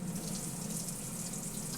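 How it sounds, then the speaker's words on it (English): Sink tap pouring a steady stream of water into a basin for hand washing, a continuous even hiss with no talking over it. "Next, you want to turn on the water"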